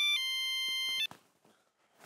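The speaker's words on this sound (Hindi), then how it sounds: "मैं अभी फोन करता हूँ, पहले हाथी भाई को फोन कर लेता हूँ।" A telephone rings while a call is being placed: a steady electronic tone holds for about a second and then cuts off, followed by faint rustling and a few brief voice sounds in a quiet room.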